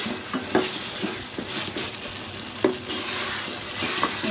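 Ginger garlic paste frying in a pot for beef curry, a steady close sizzle broken by a few scraping stirs and light clinks of the spoon against the pan.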